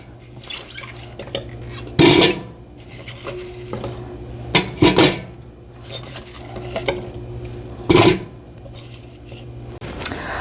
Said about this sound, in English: I've added in all the apples and I've stirred, to incorporate from the bottom to the top